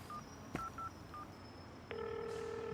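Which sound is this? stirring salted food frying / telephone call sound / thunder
telephone call sound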